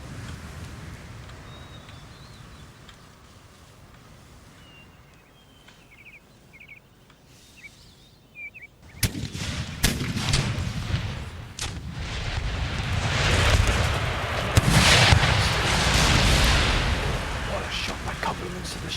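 Artillery and musket fire in Empire Total War, a battle in Munich: after a quieter stretch with faint birdsong, a sharp boom opens a dense, loud rumble of cannon and volleys that keeps rolling to the end.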